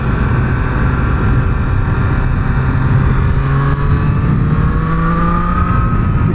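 A Triumph Street Triple R motorcycle's three-cylinder engine drones loudly and continuously while riding along a busy, bumpy road, its pitch slowly rising as it accelerates, with strong wind rush and no talking.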